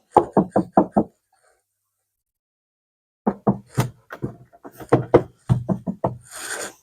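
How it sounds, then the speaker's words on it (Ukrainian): Repeated rattling knocks from the lower part of a Hyundai Terracan rear door, short sharp bursts in two groups separated by a silent gap, close and fairly loud with no talk. "Десь щось тарабане отут, на цій частині під, під дверкою."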